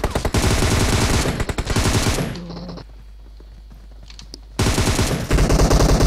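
Heavy automatic fire rattles in PUBG, a long loud close burst that stops for about two seconds of near quiet, then resumes in rapid full-auto volleys.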